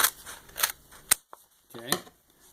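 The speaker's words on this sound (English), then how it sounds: "I'm going to trim right on the edge of that transparency in the tape so it doesn't stick to my scissors" Scissors snip through a transparency sheet and tape in a few sharp, crisp cuts spaced apart, with a voice speaking briefly near the end.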